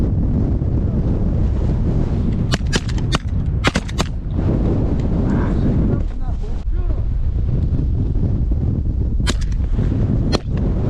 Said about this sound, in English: My gun got caught up on my blind, so I couldn't pull up very well, and then I missed